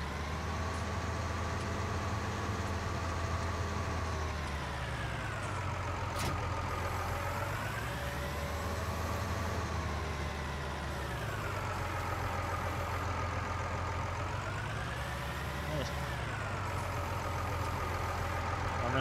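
A tractor engine labours under a heavy rapeseed load with rear counterweights in Farming Simulator 19, a steady loud drone whose pitch rises and falls in slow waves as the revs change, with no voices.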